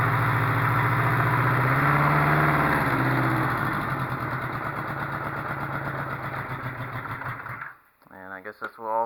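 Four-cylinder engine of a Honda CB500/4 motorcycle idling steadily with its carburetors running, one carb not drawing fuel, a close, continuous mechanical hum that cuts out near the end as a voice speaks briefly.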